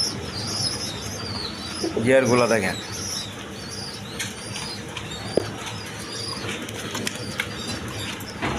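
A pair of Denis Black Diamond pigeons coo in a throaty burst, with brief wing flaps nearby, while someone talks over them.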